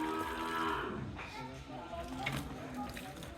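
Red Sahiwal cattle moo in a low, drawn-out call lasting a few seconds, fairly close, with faint background noise.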